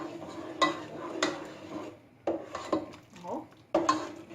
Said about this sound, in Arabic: هحط معلقه وشويه كمان كده، وهقلبهم كويس